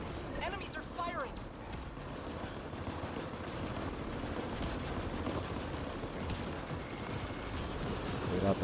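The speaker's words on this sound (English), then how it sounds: "Enemies are firing." Distant enemy gunfire in Mass Effect: Andromeda multiplayer, a steady rumbling wash of shots and engine-like drone over a sandstorm map, with scattered sharper cracks throughout and no clear speech.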